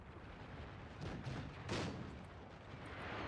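Cannon fire in a Napoleonic-era battle from the Field Command Napoleon video game, with Ottoman forces involved: a few dull, rumbling booms at medium distance, swelling twice over a steady low battle din, with no voices.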